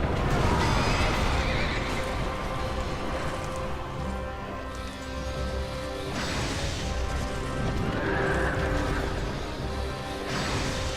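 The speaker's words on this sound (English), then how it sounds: "Here comes the horse." A horse neighs in the video game Dark Souls 2, the whinnies repeating over loud, continuous clattering of hooves and crashing chariot noise that fills the whole stretch.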